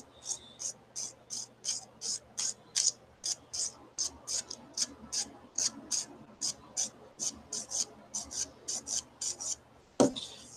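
Rapid, even strokes of a nail file rasp across a gel nail to smooth it, a steady run of close, crisp scratches with a brief sharper knock near the end.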